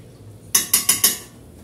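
Spoon stirring rice with white wine in a pot, four quick scraping clinks in a steady rhythm, close and clear with no talk.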